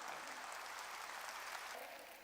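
A church congregation applauds to glorify God, a steady wash of many hands clapping, even and sustained throughout, fairly faint and without talk.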